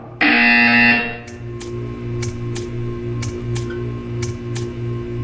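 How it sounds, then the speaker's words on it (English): A Portal 2 test chamber buzzer sounds once, a loud harsh electronic tone about a second long, followed by a faint rhythmic mechanical pulsing and scattered soft clicks in the background. "You will hear a buzzer."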